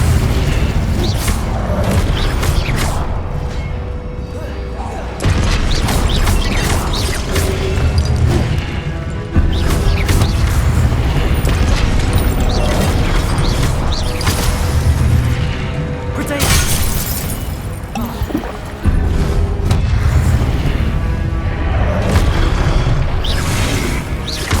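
An Incendio fire spell is cast repeatedly in Hogwarts Legacy on PS5, loud fiery bursts and booming crashes layered over dense, continuous combat sound and a speaking voice.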